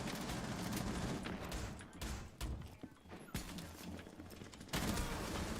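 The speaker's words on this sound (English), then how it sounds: "He's shooting me through the floor." Gunfire in the video game Rainbow Six Siege, coming through a floor, heard as dense, fairly faint rattling bursts and thuds that run almost continuously with brief lulls.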